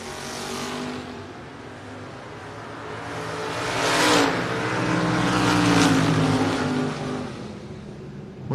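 Drag racing cars, a Mustang against an opponent, launch together down the strip at a drag race, engines roaring loud and steady as they pull away, swelling midway before easing off.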